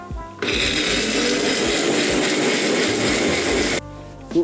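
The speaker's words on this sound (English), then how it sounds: "I do recommend using a blender if you can, because if you do blend it, you're gonna be able to get as much juice as possible." A kitchen blender whirs steadily for about three seconds, blending the ingredients for a poke bowl sauce, then cuts off abruptly; it runs alone with no talk, and a brief clunk follows near the end.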